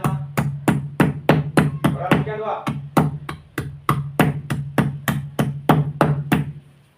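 Fresh ginger for ullisukka is crushed with a steady series of about twenty sharp, loud pounding thuds at a regular rhythm, briefly interrupted once by a short pause with a voice.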